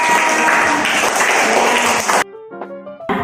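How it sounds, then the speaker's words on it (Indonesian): A burst of lively clapping from a group fills the first two seconds, then cuts off abruptly, followed by a few short musical tones. "Tepuk tangan buat Meldan."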